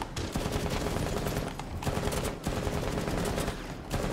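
Rapid automatic gunfire in the Rainbow Six Siege video game, a dense, sustained burst of shots with brief pauses, moderately loud with no talking.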